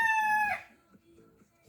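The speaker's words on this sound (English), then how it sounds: "it's the rooster going off out there." Rooster crowing outdoors near a backyard garden with raised beds, one loud, bright sustained crow that cuts off sharply and leaves faint ambient sounds behind it.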